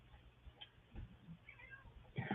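A house cat gives a few short, faint meows indoors, mixed with light background noise and small handling sounds.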